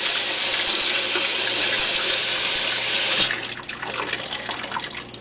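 Cold water runs steadily from a tap into a sink for rinsing a washcloth, a loud broadband gush that eases and turns more splashy partway through, with no voices.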